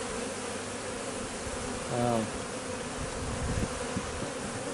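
Bees swarm densely at a massive hive being removed, a steady, close buzzing hum that fills the whole stretch, with a brief louder drone in the middle.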